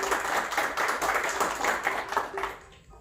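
Audience applause at a gastrocultural reading circle marking Puebla's founding anniversary: steady, close crowd clapping for about three seconds before tapering off abruptly.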